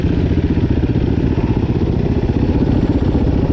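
A dirt bike's four-stroke 450 engine, from a Yamaha YZ450F, Husaberg FX450 and Husqvarna comparison, idles steadily and loud up close with a rapid, even low thump that holds throughout.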